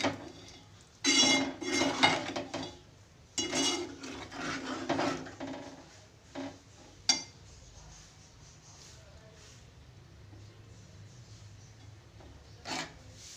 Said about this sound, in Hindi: अब मैं इसको चूल्हे की स्टीम तेज करके भूनूंगी मसाला